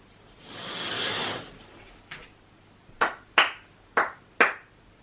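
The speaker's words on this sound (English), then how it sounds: "I can hear it when I clap, so you probably hear it in the music as well." Sharp hand claps in a room with a reflective ceiling, four distinct claps each trailed by a quick ringing flutter echo, with a softer clap and a brief noise swell before them.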